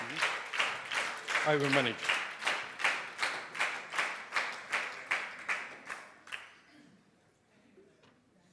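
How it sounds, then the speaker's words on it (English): Audience applause at a DXN business presentation, a steady rhythmic group clap of about a dozen beats that fades out after about six seconds, with a voice briefly speaking over the clapping. "Keep that clap on."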